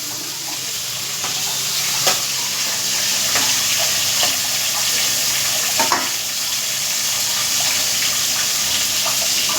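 Starch water drains from a pot of cooked rice in a steady, close, rushing pour that runs without a break, with a few faint knocks and clinks beneath it.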